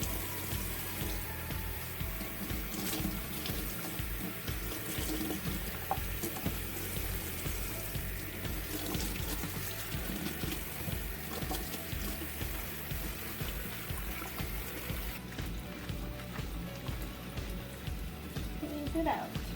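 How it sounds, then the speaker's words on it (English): Salted kimchi cabbage is rinsed under running tap water, giving a steady, close, splashy rush throughout with occasional handling knocks, and no talk. "Now we're going to rinse it one more time. Just to make sure all those salt is gone."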